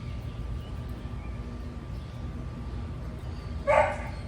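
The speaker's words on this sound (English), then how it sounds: "Sounds a little bit like a distressed bark, doesn't it?" A dog barks once in distress, a short, fairly loud burst near the end of a long stretch of steady low background noise, sounding as if it wants to be let inside.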